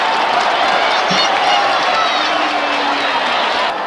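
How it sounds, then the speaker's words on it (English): A rugby league grand final crowd roars continuously after a try, a loud, dense wall of cheering and shouting that holds steady throughout with a commentator speaking over it. "The crowd have gone wild, completely wild."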